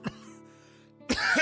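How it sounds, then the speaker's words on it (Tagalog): A man coughs, a short harsh cough at the start, then a quiet pause over a soft steady hum, then a rougher, louder cough and throat clearing at the end, close and alone. "Kuya, nag-aalala talaga ako dyan sa ubo mo"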